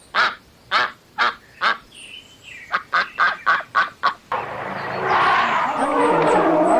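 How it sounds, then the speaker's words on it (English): Duck calling in a series of loud, close honking quacks, four spaced calls followed by a quicker run of six, then a noisier flurry of overlapping sound. "Ducks have a round body, a flat, broad beak, and short-webbed feet."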